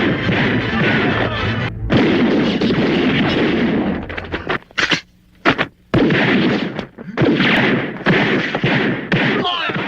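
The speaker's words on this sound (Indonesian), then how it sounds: "terjadilah aksi tembak-menembak" Film gunfight: rapid bursts of gunshots and heavy thuds crackle over a loud, busy soundtrack, with brief silent gaps between exchanges.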